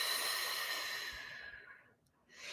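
Slow, breathy exhale through the mouth during a calming breathing exercise, airy and close, fading out before a fresh breath begins.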